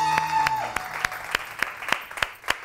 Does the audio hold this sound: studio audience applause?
yes